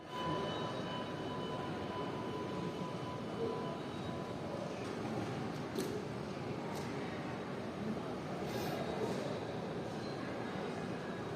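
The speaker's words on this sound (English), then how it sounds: "We're now on metro line number 19 from Tianfu Airport all the way west to Shuangliu Airport" Metro line 19 train ride between Tianfu and Shuangliu airports: a steady low rumble of wheels and cabin hum fills the whole stretch, with faint high squeals and clicks now and then, and no talking.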